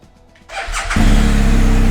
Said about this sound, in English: Okay, we got the engine turned on now.